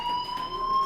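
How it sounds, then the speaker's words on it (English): A school fire alarm in the video game Life is Strange rings as a steady, continuous electronic tone with bright overtones, holding evenly at moderate loudness with no talk over it. "do you hear that fire alarm?"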